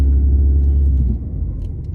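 A car's engine gives a loud, close, deep rumble as the driver presses the gas pedal on a drive to the sea, then eases slightly after a second.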